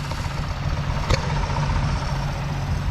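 A neglected 1954 Plymouth Savoy engine idles steadily with a low, continuous rumble and a slight knock, one brief sharper tap partway through, no voices.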